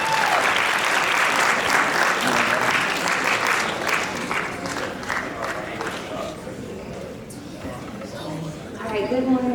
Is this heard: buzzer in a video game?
no